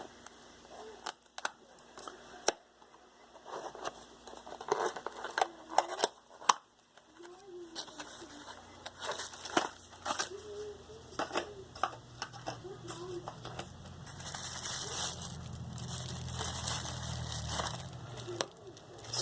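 Packaging for small 1507 quadcopter motors being opened by hand, with intermittent close crinkles, snips and rustles and someone talking over parts of it.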